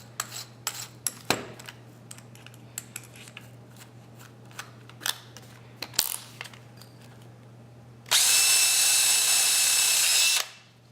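Power drill boring a hole in a fountain pen tube with a final-size bit: a steady high whine for about two seconds, loud and close, after a run of scattered clicks and taps from handling the pen.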